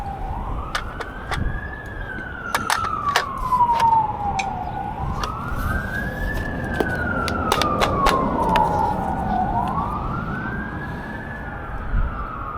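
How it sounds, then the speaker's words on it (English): A wailing siren rises and falls in slow sweeps, loud and fairly near, over wind and traffic noise. "I hear a bunch of sirens"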